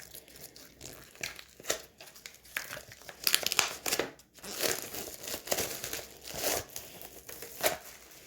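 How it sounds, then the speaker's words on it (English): Plastic wrap is peeled off a painting canvas, making close, irregular crinkling and crackling bursts with brief tearing rustles and short pauses between pulls. "Don't forget to take the plastic off."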